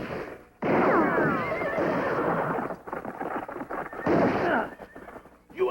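A horse whinnies loudly and neighs again after a pause, with hoofbeats and rumbling commotion in a Western setting. No voices are heard.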